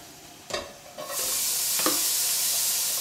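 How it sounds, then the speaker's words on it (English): Vegetables hit hot olive oil in a pan on the stove and break into a loud, steady sizzle, with a couple of utensil scrapes before it and one during, no talking. "you're going to start to saute the vegetables"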